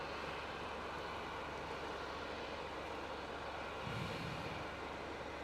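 Virgin Australia Velocity flight 238 from Adelaide arrives at Melbourne Airport, a steady, broad jet roar that holds evenly throughout with no talk.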